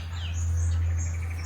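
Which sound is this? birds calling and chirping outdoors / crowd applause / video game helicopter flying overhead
birds calling and chirping outdoors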